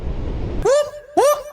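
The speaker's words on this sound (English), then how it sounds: "That's the sound of the police." Two short rising police siren whoops, close and loud, following a stretch of low rumbling road noise from a Suzuki M109R motorcycle ride.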